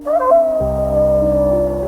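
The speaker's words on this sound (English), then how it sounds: "Her fears were confirmed when the first wolf howl pierced the frosty air." A lone wolf howls into frosty night air, one long, steady, tonal cry that rises briefly and then holds fairly loud and clear with nothing else heard.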